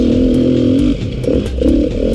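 Beta RR480 enduro motorcycle engine burbling at low revs on an enduro loop, a steady loud drone that rises and dips with throttle changes, close up with no talking.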